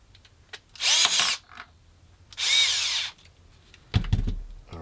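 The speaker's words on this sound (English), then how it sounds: "I will get these 2 screws into it" A power drill drives two screws into an Axial Gilamon RC crawler, with two loud, close whirring bursts of about a second each, separated by quiet handling clicks and ending with a light knock.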